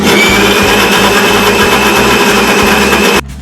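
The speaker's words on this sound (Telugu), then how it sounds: "ముందుగా నానబెట్టి పెట్టుకున్న లెమన్ సైజ్ చింతపండు మిక్సీ చేసేస్తాం" A mixer grinder whirs loudly and steadily as it grinds lemon-sized soaked tamarind, its motor droning close up with rhythmic pulsing before cutting off abruptly at the end.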